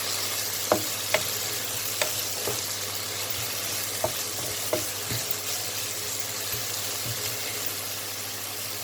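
Leftover roti noodles frying in a pan are stirred with soy sauce, a steady sizzle under scattered clinks and scrapes of the utensil against the pan.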